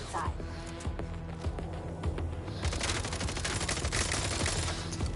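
A heavy-recoil gun in the video game MindsEye fires in a steady rapid stream of loud shots, continuous throughout, with a voice talking over the gunfire.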